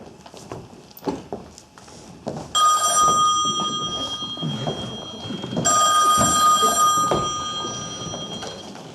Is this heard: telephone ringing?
yes